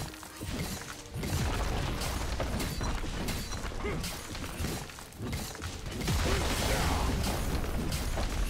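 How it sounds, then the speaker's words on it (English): A turret crumbling in League of Legends during a Garen versus Gnar top-lane match: a run of crashing, shattering impacts and bursts layered over busy game effects, loud and dense from start to finish. "team's turret has been destroyed"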